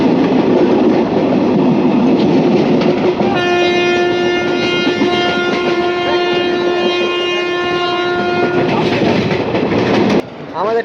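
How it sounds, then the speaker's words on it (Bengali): The Howrah–Chakradharpur express train, number 18011, runs at night toward Purulia Junction. Heard from on board, its loud steady rumble and rattling wheels carry through, with a long sustained horn blast in the middle. "আমাদের ট্রেন এখন ঢুকছে পুরুলিয়া জংশন স্টেশনে"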